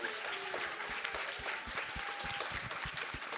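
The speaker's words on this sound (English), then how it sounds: "give him a round of applause" Audience at a TwitchCon cosplay panel clapping steadily, a dense, sustained round of applause from a crowded room, close and even throughout.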